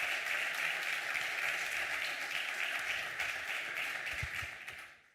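Audience applause at a cultural heritage conference in Aragón: dense, steady clapping from a large crowd that holds loud for about four seconds, then thins and fades out toward the end.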